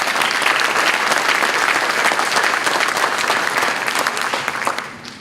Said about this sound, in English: Again, give them a round of applause.